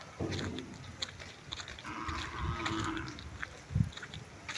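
A cow bellowing while its calf searches for its mother on a rural property in Sri Lanka; a few moderately distant, drawn-out calls over quiet outdoor background.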